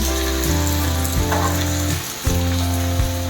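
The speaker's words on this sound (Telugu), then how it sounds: "ఈ విధంగా ఇవి ఫ్రై చేసి" Raw banana pieces fry in oil in a pan with a steady, dense sizzle that holds throughout, punctuated by a few brief dips and crackles, close and loud with no talking.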